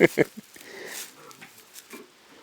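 A couple of short, loud grunts from feeding pigs at the start, followed by quieter rustling and faint snuffling noises, with a voice talking in the background.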